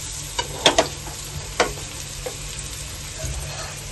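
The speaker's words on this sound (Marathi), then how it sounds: "फ्राय करून घेऊया. आता आपण मी थोडंसं तेल टाकलेलं आहे त्याच्यात." Paneer fries in a little oil in a pan, a soft sizzle under a few sharp scraping stirs in the first half, then a quieter steady bubbling.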